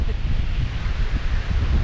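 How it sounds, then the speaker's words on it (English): Wind on a beach at Roquetas de Mar, Spain, buffets the microphone in loud, gusty rushes, a rough low roar with a faint wash of surf underneath. "We've chosen a windy day."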